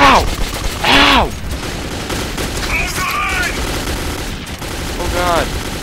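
Loud bursts of rapid gunfire in the video game Metro 2033, with rattling volleys and several shorter shots spread across the moment, mixed with wavering vocal cries.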